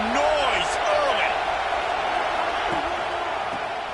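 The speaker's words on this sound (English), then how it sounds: "This crowd bringing the energy and noise early." A large crowd at a football game roars continuously, a dense, loud wash of cheering with whoops rising above it, while an announcer talks over the noise throughout.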